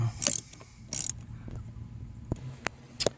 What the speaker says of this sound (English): I'm just going to be getting it as tight as I can get it with this little wrench here.